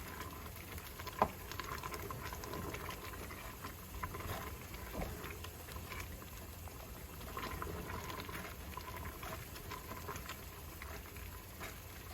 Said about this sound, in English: So when it comes back up to a full boil, we're going to time it for 1 minute.